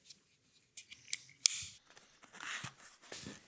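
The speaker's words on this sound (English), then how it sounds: "hold our cardboard up straight as we start doing the slices" A Spyderco Manix 2 knife draw-slices through cardboard held upright, giving a few crisp, close cutting snaps and scratchy slicing strokes amid light handling noise, no speech.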